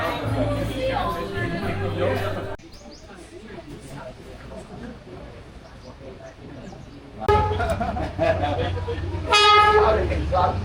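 A train rumbles past on a street in Hanoi, Vietnam, with a loud, steady roar and clatter, sounding a horn near the end as the noise surges up again.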